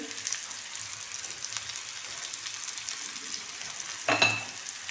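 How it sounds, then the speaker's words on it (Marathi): Chopped potatoes fry softly in a pan with a faint, steady sizzle, and a brief louder clatter of stirring comes near the end. "बटाटा आहे ना छान असा परतून घ्यायचा व्यवस्थित"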